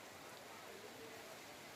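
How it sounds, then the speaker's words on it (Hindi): Heavy, prolonged rain pours down on a campsite during the Braj 84 Kos parikrama pilgrimage walk, seeping even into a waterproof tent. The downpour is a steady, dense hiss with no breaks, fairly faint, and no voices can be heard. "जबरदस्त बारिश।"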